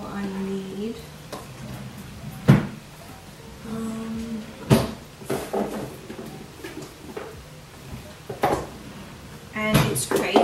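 Drawers being opened and closed to take out jewelry boxes, with several sliding thumps and clacks spread through the clip among softer rustling and handling, and a voice talking over them.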